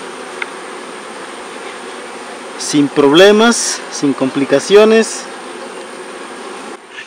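Honey bees at a drone-laying beehive hum in a continuous, even buzz, with someone speaking briefly over it partway through.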